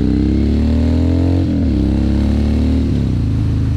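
A 2016 Harley-Davidson Dyna Street Bob rumbles loudly while riding on a rainy day, its V-twin engine rising through the gears with two shift dips, heard up close with no talking.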